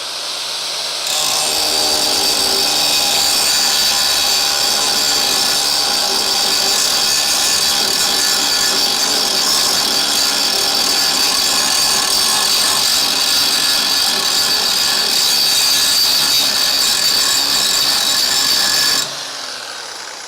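An angle grinder works metal bodywork on a Crew Cab Charger project car, fitted with a disc other than a flap disc. It gives a loud, steady high whine for about eighteen seconds, starting and stopping abruptly, with no talking.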